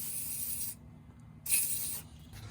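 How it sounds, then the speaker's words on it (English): WD-40 hisses from an aerosol can onto a stuck exhaust downpipe bolt on a BMW 340i, two close spray bursts separated by a short pause. "I'm gonna go ahead and spray some WD-40 on there"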